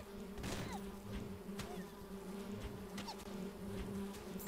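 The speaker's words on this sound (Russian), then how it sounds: "смотрите, как мои осы или пчелы съедают всех, даже комаров" A swarm of game bees or wasps in Swamp Attack buzzes steadily, a soft droning hum with occasional sharper zips, quiet and continuous with no voices.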